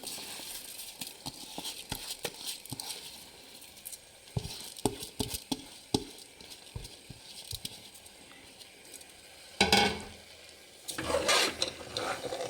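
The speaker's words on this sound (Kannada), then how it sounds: "ಮಸಾಲೆಯಲ್ಲಿ ಅಕ್ಕಿನ ಚೆನ್ನಾಗಿ ಹುರಿಬೇಕು ತುಂಬ ಚೆನ್ನಾಗಾಗುತ್ತೆ" Washed rice fries in masala for an egg biryani, with a steady sizzle under a run of sharp scraping stirs and clacks from a spoon, and louder bursts of frying near the end.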